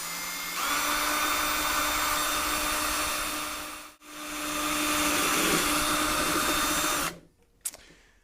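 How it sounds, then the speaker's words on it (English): A power drill bores a small pilot hole into the end of a baritone ukulele body, whining steadily and loud at close range, pausing briefly midway, then stopping with a couple of faint clicks. "I use a smaller drill bit to do the initial hole"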